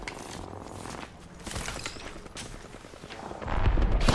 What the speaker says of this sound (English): Jug is shooting at me.